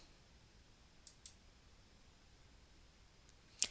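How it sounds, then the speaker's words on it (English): A computer mouse clicks faintly in a quiet room: a quick double click, then a single sharper click near the end, with soft background hiss between. "I click on the Approved tab"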